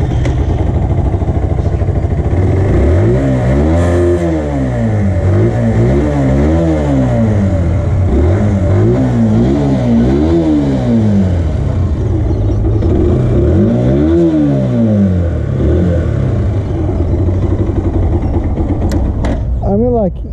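A 125cc motorcycle engine runs continuously and loudly throughout, with repeated revving swells rising and falling in pitch, close to the listener.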